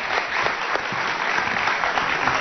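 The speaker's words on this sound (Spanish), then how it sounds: "Un por aplauso para Angélica Vale" An audience applauds Angélica Vale on a Spanish-language show, a continuous wash of clapping at moderate level with no voices over it for the whole stretch.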